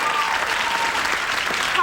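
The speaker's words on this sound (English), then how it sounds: "How about a round of applause?" Studio audience applause, a dense, loud wash of clapping filling the room at a steady level.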